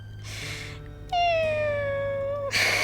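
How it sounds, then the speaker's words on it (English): A cat lets out one long, drawn-out meow, close and clear, framed by brief bursts of rustling noise before and after. "And making this meowing sound."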